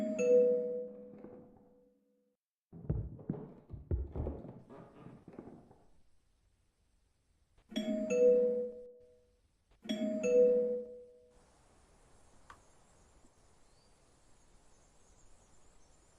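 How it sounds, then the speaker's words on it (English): A video-game doorbell rings in two-tone ding-dong chimes, three separate rings spaced apart with a scuffling, clattering burst between the first and second, then a faint high tone and quiet hiss trailing after. "Use the doorbell."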